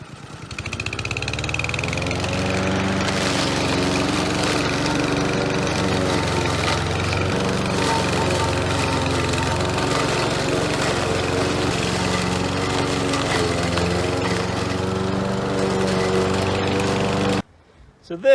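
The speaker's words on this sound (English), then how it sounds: "I'm gonna come out here with the mower real quick." A lawn mower engine running steadily while shredding garden clippings for compost, a loud continuous droning hum close by for most of the stretch before cutting off abruptly near the end.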